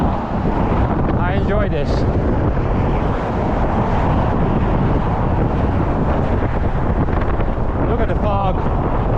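Loud, constant wind buffets the microphone while skating across the fog-covered Golden Gate Bridge in San Francisco, a dense roaring rush throughout, with a voice speaking briefly underneath.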